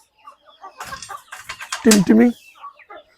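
Hens and chicks cluck and peep on a farm where chicks pick at dung, in short scattered bursts near the listener, with someone speaking Hindi over them and one louder squawking burst in the middle.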